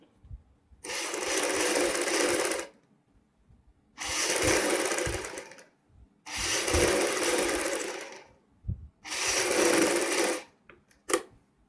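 A sewing machine stitches along a folded V-neck strip in four separate bursts of steady rapid whirring, each lasting about two seconds, with short quiet pauses and small handling clicks in between.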